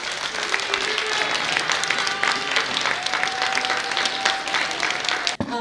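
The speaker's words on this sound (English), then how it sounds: "Please give them a round of applause as they come on the stage." Crowd applause for graduating seniors walking onto the stage at a university Greek life awards night, dense continuous clapping with faint music beneath, ending in an abrupt thump.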